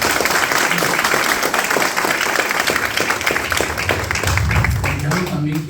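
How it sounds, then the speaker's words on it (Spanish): A church congregation applauds during a Spanish-language sermon, producing dense, steady clapping that fills the space and carries on loud throughout, with voices and cheers mixed in underneath toward the end. "Si lo va a aplaudir, hágalo con fuerza."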